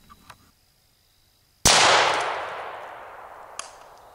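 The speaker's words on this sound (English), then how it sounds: "We'll fire a second shot." A single sharp, loud FN P90 5.7x28mm gunshot into a concrete block, with a bright crack and a long decaying ring afterward, alone after a near-silent lead-in.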